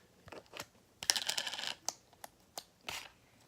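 Glitter slime being squeezed and worked by hand makes a run of sharp, close clicks and crackles, with a dense cluster in the middle and scattered single clicks around it.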